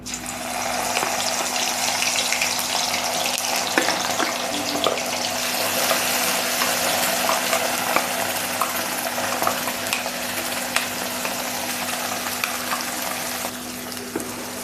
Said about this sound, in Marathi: तेलात मसाला चांगला फ्राय करून घ्यायचा आहे